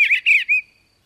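An eastern bluebird gives a short warbling trill, three quick soft notes close together, alone against silence.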